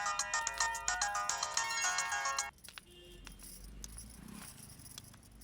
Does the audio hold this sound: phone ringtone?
yes